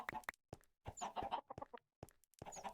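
Minecraft chickens cluck in short, choppy bursts, several quick clucks scattered across the moment with brief gaps between them, fairly quiet and close, with no speech.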